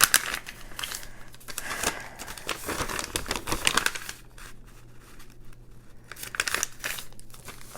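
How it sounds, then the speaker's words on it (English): Crinkly paper crumpled and handled while crafting a junk journal, close and loud, with bursts of crunching and tearing-like rustle in clusters separated by quieter pauses. "I love that noise. Crinkly, crunchly paper."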